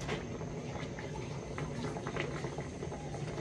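A pot of kare-kare with vegetables boils steadily, a dense continuous bubbling and churning of liquid close by with no talk over it.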